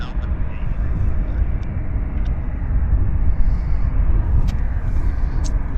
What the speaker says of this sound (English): This Alaska Airlines is heading to Seattle. It's an Embraer 175.